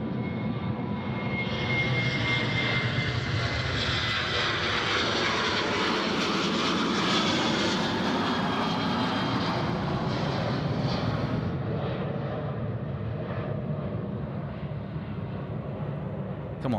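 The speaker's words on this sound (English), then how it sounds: "now getting off here runway right is Velocity 826" A Velocity jet, flight 826 from Sydney to Melbourne, takes off from Sydney Airport's runway, its engines roaring loudly and steadily throughout, swelling in the middle and easing slightly toward the end.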